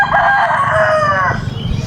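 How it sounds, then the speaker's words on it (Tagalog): A rooster crows once in a long, loud, close cock-a-doodle-doo in a rural garden setting, trailing off into quieter background bird noise. "ang marinig mo lang is yung ingay ng mga ibon"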